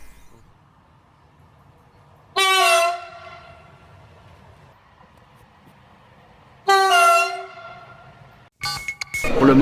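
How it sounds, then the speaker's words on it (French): Two loud, sustained horn blasts from a tram-train, sounded in its train horn mode, a few seconds apart, followed by a burst of rattling noise near the end. "le problème c'est vraiment le klaxon du tram-train"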